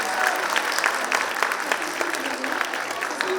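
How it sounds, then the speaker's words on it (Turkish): Steady applause from an audience at a televised cooking gathering, a continuous patter of clapping hands close by, with faint voices underneath. "Ona da ayrıca bir alkış alalım."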